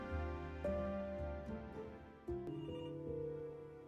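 A telephone rings in the video game Before Your Eyes, a bright electronic bell tone trilling in repeated bursts over layered sustained music tones, clear and moderately loud with no voices.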